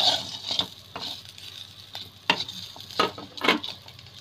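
Spicy chicken fry: pieces of chicken sizzle in a pan and are stirred repeatedly, with intermittent scraping strokes over a low, steady crackle of frying, close up and without talk.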